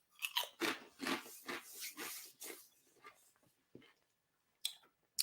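Close, loud crunching of donut-flavoured Twisties corn snacks, a run of crisp bites and chewing bursts that fade to sparse clicks, with a few more sharp crunches at the end.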